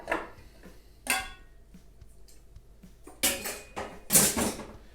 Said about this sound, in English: Now I'm gonna take the other part of that springform pan, put it over the top, open that up.